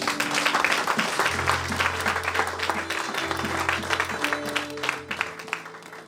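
Church congregation applauding and cheering in praise of the Lord, a dense, loud wash of clapping that runs steadily throughout with a sustained musical backing underneath.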